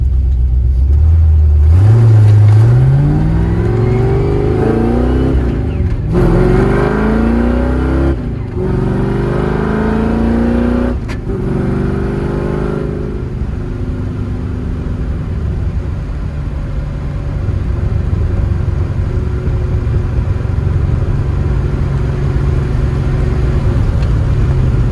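A car with 3.73 rear gears accelerates hard on a test drive, its engine rising through several gears with repeated pitch climbs and shift breaks. The loud rumble then settles into a steady cruising drone.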